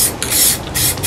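Spray paint hisses from an aerosol can onto a coffee table during refinishing: a loud, close, continuous spray broken by two short pauses.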